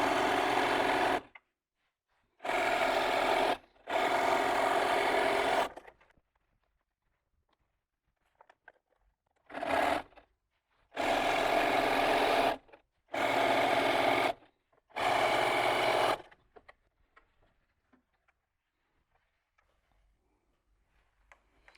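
A sewing machine joining quilt strips in several separate runs, each a steady fast mechanical whirr lasting one to three seconds, with quiet pauses and small handling sounds between, up close and without talk.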